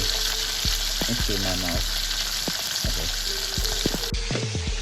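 Chicken pieces fry in oil in a frying pan, giving a dense steady sizzle and crackle throughout with a few brief knocks and stirring sounds, while a voice speaks briefly.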